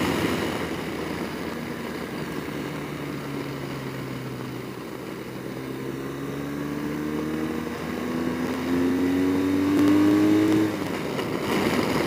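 BMW GS 1200 motorcycle engine pulling out strongly and accelerating through gears on the Cherohala Skyway, a steady near drone with rising engine tones that swell louder toward the end, no talk.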